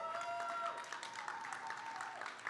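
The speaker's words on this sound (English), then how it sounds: "Can we please big a big round of applause to these amazing panelists?" Audience at a startup week panel on nonprofits applauds the panelists, a soft, continuous wash of clapping with a few sharper hand claps standing out, heard at low level.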